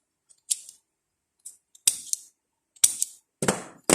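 A stapler is pressed through a folded banana leaf while a simple leaf float is made, giving sharp isolated clacks and crisp snaps, about six close bursts, some in quick pairs, with quiet gaps between and no talk.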